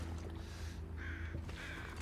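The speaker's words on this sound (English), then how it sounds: "See, now I think I hear crows." Crows in The Long Dark survival game give two quick caws in succession over a low ambient rumble, with no one talking.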